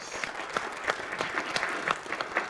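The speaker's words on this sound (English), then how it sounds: "Let's give Shaz another round of applause" Participants at a LinkedIn profile workshop give a presenter another round of applause, steady moderate clapping from a small group with sharper individual claps standing out, no talk over it.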